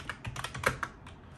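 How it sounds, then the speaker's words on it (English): Quick bursts of keystrokes on a computer keyboard connected to an Orange Pi Zero 2 single-board computer, close and crisp, with a few rapid taps then a pause and one last press. "So keyboard is working totally fine."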